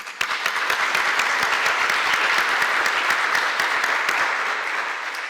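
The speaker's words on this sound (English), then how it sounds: "We applaud you." Audience applause at a nursing white coat ceremony: a dense, steady wash of many hands clapping, loud and sustained throughout before easing slightly at the end.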